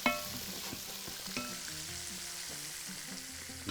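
Fish and onions fry together in a pan with a soft, steady sizzle, broken by a few light scrapes and knocks from stirring, fairly quiet and close.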